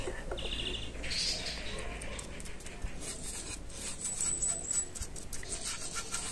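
A small bird chirps in short, bright tweets that stand out at intervals over a steady background hiss, fairly faint and with no one talking.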